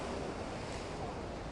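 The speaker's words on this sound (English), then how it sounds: "Now we're just going to wait for another set of waves and take another shot." Ocean waves break against fixed rocks on the shore as a faint, steady, distant roar of surf with some wind.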